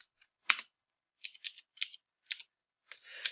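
Light keystrokes on a computer keyboard come in short, spaced clusters while numbers are entered into a spreadsheet, quiet and close with silence between bursts.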